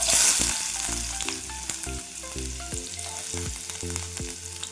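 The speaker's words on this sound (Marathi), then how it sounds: "भाजून घेऊत आपण तेलामध्ये लालसर अशा प्रकारे" Onion frying in two spoons of oil with mustard seeds in a kadhai, a steady close sizzle with scattered crackles and occasional stirring clinks, no voices.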